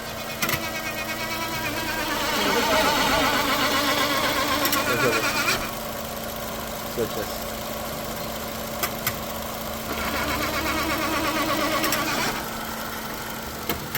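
Chevrolet engine with 260 thousand km and an unserviced gearbox, idling with a steady whine. The noise swells into a louder grinding, whirring drone twice as the car is put into drive, then settles back.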